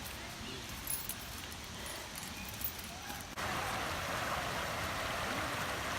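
River water flows near a waterfall as a steady broadband rush that swells louder midway, with faint clinks and movement on top.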